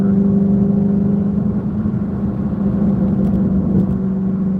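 A Shelby GT350 sports car engine rumbles steadily and loudly, a deep sustained drone with no voices over it.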